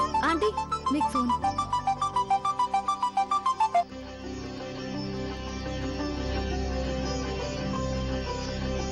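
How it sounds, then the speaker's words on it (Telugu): A telephone rings with a bright, melodic ringtone of rapid repeating electronic beeps for about four seconds, then gives way to steady background music. "ఆంటీ, మీకు ఫోన్."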